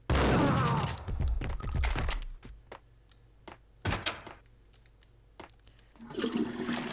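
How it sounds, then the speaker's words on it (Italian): A toilet flushes in Max Payne, a loud rushing gush at the start that drains away into a quieter gurgle, followed by scattered thunks and clicks and a brief renewed swell near the end. "Si può tirare anche lo sciacquone"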